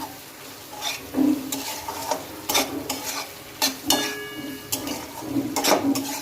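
Repeated scraping and clinking of a spoon stirring fried potatoes into masala in a pan, with a soft sizzle underneath, irregular strokes close by.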